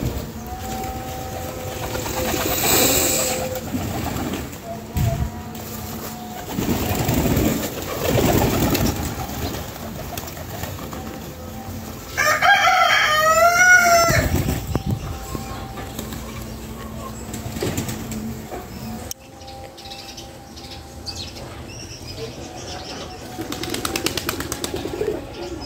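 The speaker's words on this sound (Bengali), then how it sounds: "কবুতরগুলা নিমিশেই খাওয়া শেষ।" Pigeons feeding on rice coo intermittently while they eat, with scattered rustles and a brief burst of sharper bird calls midway; the sounds come and go at moderate volume.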